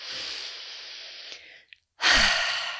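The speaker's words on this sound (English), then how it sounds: "Inhale deeply through your nose." A slow, deep breath is drawn in through the nose, close and airy, for about a second and a half. It fades into a brief silence before a strong breath begins again.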